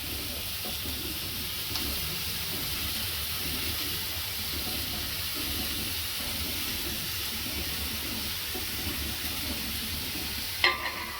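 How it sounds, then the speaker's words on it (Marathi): Carrot and chopped cabbage with capsicum are sautéed for homemade veg momos, giving a continuous soft sizzle and hiss with faint stirring scrapes and a sharp clink near the end. "आणि याला चांगलं परतणार आहोत।"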